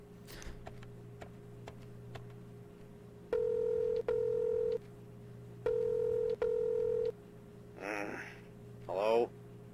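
Telephone keypad tones from a wall phone in a video game, two groups of short steady beeps in quick succession, fairly loud, followed by brief bursts of voice.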